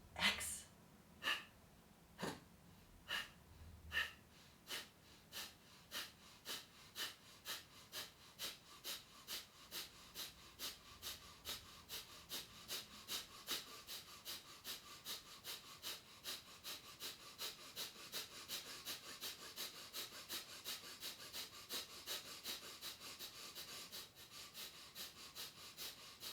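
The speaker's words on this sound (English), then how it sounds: "I do 3-part breathing exercise, 3 in, 3 out" Deep breathing in and out during a three-part breathing exercise, a long series of steady breaths that start slow and spaced, then quicken into a fast even rhythm, close and fairly loud, with no talk.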